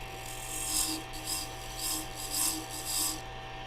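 A carbide insert tool with a flat-bottomed cutter is held flat against wood spinning on a lathe. It gives a close, raspy scraping hiss that rises and falls in regular passes about every half second, with a faint motor hum underneath.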